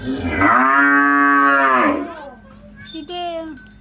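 A cow in a cattle shed lets out a long, loud moo close by, followed by quieter lowing and brief sounds afterward.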